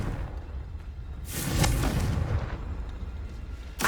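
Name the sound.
Confringo spell explosion, Hogwarts Legacy video game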